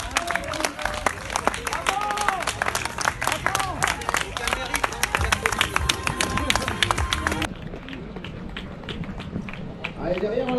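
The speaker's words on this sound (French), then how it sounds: "Allez, ils seront bien applaudis, bien sûr." Spectators clap and cheer as ultra-trail runners cross the finish line on a red carpet at the Grand Raid 175 km Ultramarin 2021, a steady close clatter of applause with crowd chatter and commentary over it, thinning toward the end.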